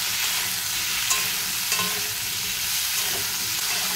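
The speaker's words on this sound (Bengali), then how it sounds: "এখন ভেজে নেব ফুলকপি।" Cauliflower frying in hot oil in a kadai, a loud, close, continuous sizzle with a few faint stirring clinks, no voices.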